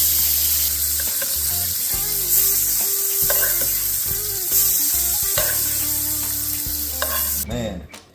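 Wagyu steak sizzles and spits in a hot pan as it is basted with melted fat, a steady close frying hiss with occasional clatter of a spoon or pan, ending in a brief louder scrape.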